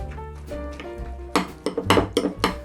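A spoon clinks and scrapes against a bowl while egg and rice with melted butter are mixed, a series of quick close metallic taps after a quieter stretch of soft stirring.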